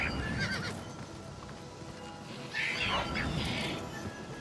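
A horse in the game Oblivion Remastered whinnies twice in a high, wavering call over a steady bed of clip-clopping hooves and outdoor ambience, moderately loud.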